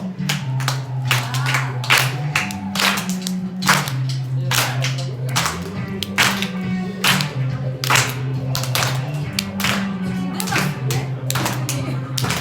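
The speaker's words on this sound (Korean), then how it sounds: "박수로." Members of a church congregation at a Korean worship service clap in a steady rhythm. The sharp, close claps keep time with an instrumental accompaniment, and voices can be heard now and then.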